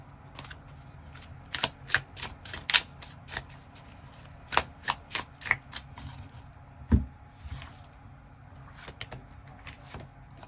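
Tarot cards being shuffled by hand, a run of crisp riffling snaps and slaps at an irregular rhythm with a heavier thump midway, close and fairly loud with no talk.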